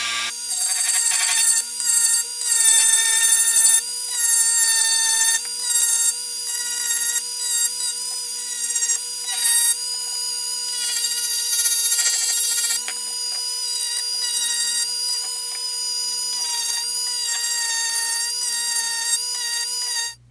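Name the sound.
Dremel with 60 grit sanding band stippling Glock 19 frame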